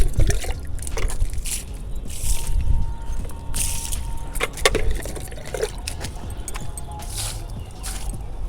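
Homemade humic acid liquid fertilizer, made from leftover rice, is poured little by little into a plant pot. A soft, continuous splashing trickle runs with a few louder drips and gurgles, close by and with no talk.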